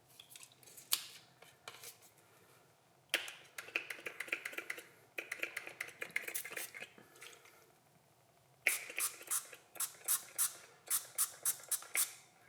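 Hairspray hisses onto slime in short repeated bursts, close and fairly quiet, with clusters of quick sprays separated by pauses.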